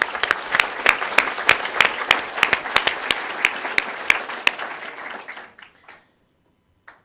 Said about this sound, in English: we should reward him with another round of applause